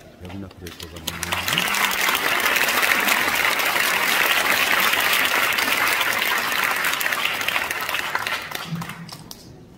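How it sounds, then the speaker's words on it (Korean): A church congregation applauds in a large auditorium hall during an Easter thanksgiving service, sustained dense clapping rising quickly and holding steady for several seconds before tapering, with a brief voice at the start and end. "목사님 나오실 때에 박수를 주고 하는 것입니다."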